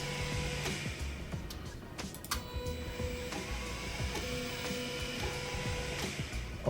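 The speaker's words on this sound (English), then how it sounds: "That new motor is moving." A stepper motor on an Ortur Laser Master 2 15-watt laser engraver drives the head around a framing pass, producing a steady whirring drone with stepped pitch changes as the head shifts direction.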